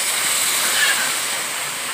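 Water poured into a hot pan of village-style elephant apple curry gives a loud, close, continuous hissing sizzle that holds steady and fades only slightly.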